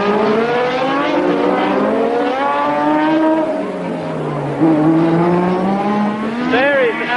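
Formula One race cars at high revs roar along the track during a race, engines rising and falling in pitch as they sweep past, with a commentator's voice running beneath the continuous engine noise.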